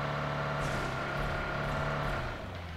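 A car driving in a video game, its steady engine drone holding level throughout with a faint rise in revs before easing off slightly at the end.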